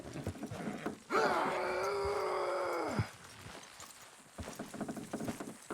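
A horse in Red Dead Redemption 2 lets out one long, loud whinny over a low rumble, with soft clatter and hoof-like taps before and after.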